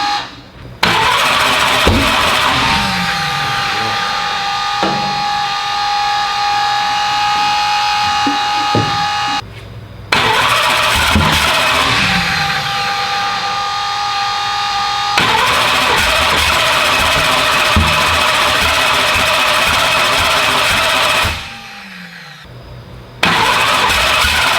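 An engine called Slick Rick fires up for the first time after several attempts, roaring loudly and settling into a steady idle before cutting out and restarting, with brief pauses between runs.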